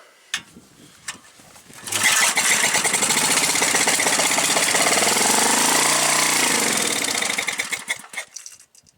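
A Briggs & Stratton small engine, just fitted with a new oil level sensor, sputters a few times, catches and roars steadily at close range for several seconds before cutting back down to a rough fading idle.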